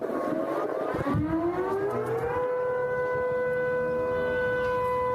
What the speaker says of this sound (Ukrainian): приємні звуки повітряної тривоги